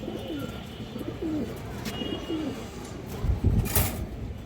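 Silver blood breed pigeons coo in low, repeated rolling calls, several overlapping coos close by, with a burst of fluttering or scuffling near the end and no talking.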